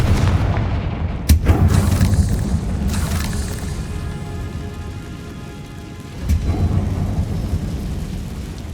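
A Confringo blasting spell detonates in Hogwarts Legacy, a sharp boom followed by a rumbling, rain-like crackle of debris, with a second burst a few seconds later.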